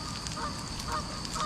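Geese honk near a fishing swim, their repeated honks rising faintly over a steady wash of outdoor noise, with no voices.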